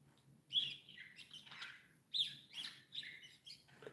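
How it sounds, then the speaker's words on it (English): Small birds chirp nearby, with short sharp high tweets in two bursts and quieter twittering between them, over a soft low hum. "I can hear them start chirping in here in the living room"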